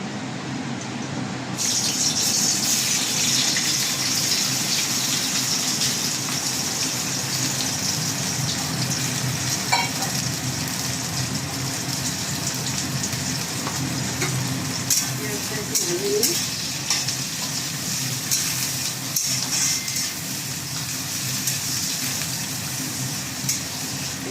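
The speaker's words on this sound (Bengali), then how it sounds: "তেলটা গরম হয়ে গেছে। এবার আমি এর মধ্যে পেঁয়াজ কুচি দেবো।" Chopped onions frying in hot white cooking oil, a steady loud sizzle that keeps going with occasional stirring clatter, close by.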